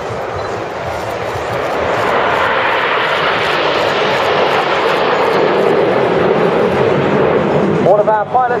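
Red Arrows jets roar overhead in formation at the Bournemouth air show, a loud broad engine rumble that swells and holds across the whole stretch, with a brief sharp sputter near the end.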